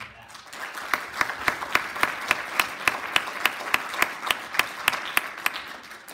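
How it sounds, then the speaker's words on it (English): An audience at a high school Christmas concert claps for the band in a steady, rhythmic run of hand claps that keeps a regular beat throughout, with a murmur of the crowd underneath. "So please give them a round of applause for that."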